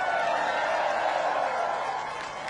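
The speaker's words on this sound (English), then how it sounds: "you can clap for him, man." A large crowd applauds during a presidential speech in Ballina, Ireland: dense, steady clapping that fills the space, holds loud and even throughout, then eases slightly toward the end.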